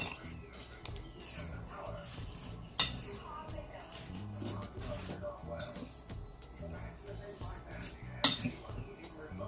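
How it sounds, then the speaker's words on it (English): Coleslaw is stirred with brown sugar and vinegar in a bowl, producing soft clinks and scrapes of a utensil against the dish with two sharper knocks, quiet and close beneath a voice talking. "I'm just gonna mix this in"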